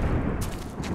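Rifle gunfire in the military shooter Operation Flashpoint: Dragon Rising, with two sharp, loud shots cracking close together over a steady background rumble of battle.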